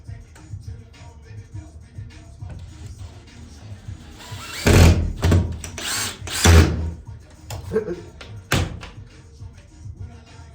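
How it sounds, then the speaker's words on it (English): A power drill drives a screw while installing a door closer on a shed door, with a low motor hum building into several loud, close bursts of driving and a final short burst; faint background talk and music run underneath. "Put that other screw in."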